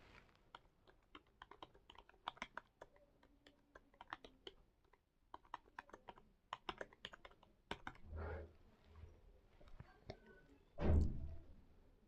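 Fingers type on a computer keyboard into a browser search bar, with quick irregular bursts of close keystrokes followed by a few heavier thumps.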